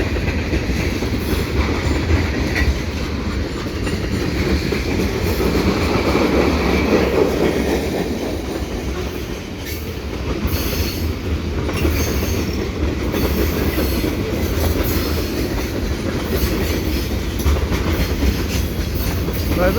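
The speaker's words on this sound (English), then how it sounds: "Oh, 3 locomotives on that one." A westbound CN mixed freight train pulled by three locomotives passes at Dorval at twilight, making a steady, loud, close rumble of wheels and rail clatter with faint squeals that lasts throughout.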